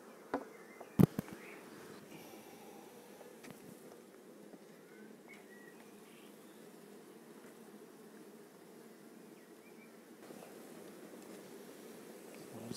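Honeybees buzzing at an open hive during an inspection, a soft, continuous low hum with a couple of sharp knocks near the start, otherwise steady and fairly quiet throughout.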